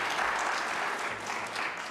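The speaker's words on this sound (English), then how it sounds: "I would like to again give a round of applause for Brother Gyan Bhaskar." An indoor audience claps steadily in a dense, even round of applause that fills the whole short stretch.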